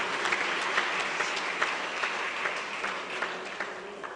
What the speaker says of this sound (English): can we please give the inmates a round of applause?